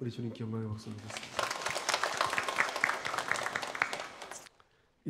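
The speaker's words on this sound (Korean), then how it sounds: "우리 주님께 영광의 박수 드리겠습니다." Korean church congregation claps together in praise during a Sunday service, a dense, fairly loud burst of applause that follows a speaking voice, runs for several seconds and then cuts off.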